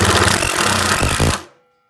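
A Festool TID 18 impact driver drives a screw in a loud, close, steady run of rapid mechanical hammering that lasts about a second and a half, then stops abruptly into silence.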